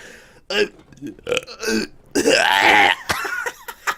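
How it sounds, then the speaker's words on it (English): Loud, drawn-out burps from a man, several in a row with one long rumbling belch in the middle, close to the mic, with laughter and chatter around them. "I don't think you should be burping that much"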